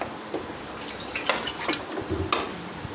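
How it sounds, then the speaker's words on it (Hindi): Water trickles and drips into a bowl of yogurt and gram flour mixed for kadhi, a soft, close pouring with small splashy spikes and no talking. "अब इस पे थोड़ा सा और पानी ऐड करेंगे"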